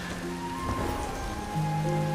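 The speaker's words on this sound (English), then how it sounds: "the rain washes away your light" Rain patters steadily in the Sky: Children of the Light game, a soft continuous wash of falling drops beneath sustained musical tones.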